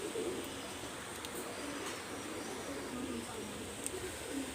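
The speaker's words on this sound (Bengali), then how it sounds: "বিয়াস এখানে দেখেন আমি এক জোড়া কবুতর দেখাচ্ছি।" A pair of pigeons coos faintly and continuously in a quiet room, soft low murmuring with a few small clicks and rustles.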